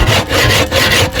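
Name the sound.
cutting wood with a saw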